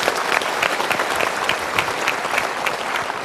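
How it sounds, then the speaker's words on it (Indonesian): A seated audience at a motivational talk claps steadily throughout, a dense, loud, even wash of many hands with no pause. "Ibu sekarang kita berikan tepuk tangan dulu."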